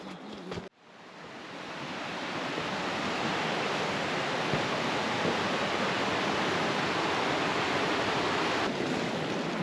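Steady rushing water fills the clip, a broad continuous roar of a jungle stream at a crossing in Khao Sok, Thailand, flowing over rocks, loud and unbroken after a brief quiet start.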